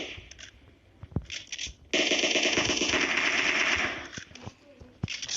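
Automatic gunfire rattles in the PUBG Mobile battle royale on the Erangel map, a dense sustained burst of rapid shots preceded and followed by scattered single cracks, with faint talk underneath.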